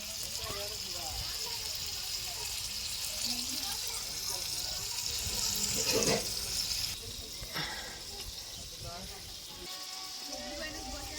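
Water is poured steadily over dried fish to rinse it in a village kitchen, a continuous close gush and splash with people talking over it.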